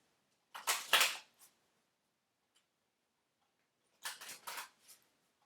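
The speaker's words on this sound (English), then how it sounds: "Let's shuffle these unicorn cards." Unicorn oracle cards being shuffled by hand in two short bursts of crisp, riffling clicks, about a second each and separated by a quiet pause, close and fairly soft.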